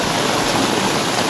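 Continuous rain in the Gir forest with rainwater running and gushing along the ground, a dense, steady wash of noise filling the short stretch, with no voices.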